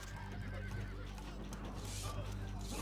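Horse neighing and hooves clip-clopping in the strategy game Stronghold Crusader, a faint whinny over steady low game noise and battle ambience.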